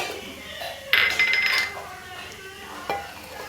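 Garlic sizzling in a pan for green bean thoran, with a brief loud spatter as it hits the oil, then quieter frying and a light utensil clink.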